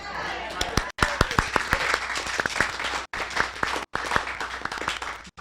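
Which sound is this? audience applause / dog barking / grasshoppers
audience applause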